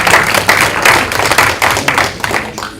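Brief burst of audience clapping at a talk, a short ragged round of hand claps with uneven peaks that tapers off within a few seconds.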